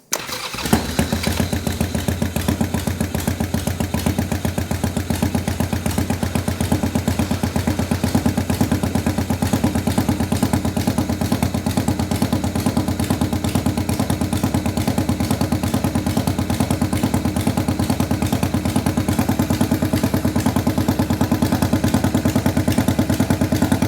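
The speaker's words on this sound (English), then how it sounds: "Let's see if we can fire her up." A motorcycle engine being revived after repair cranks briefly, catches and runs at a loud, steady, rapid idle, its even chugging beat continuing close up for the full stretch with no talk.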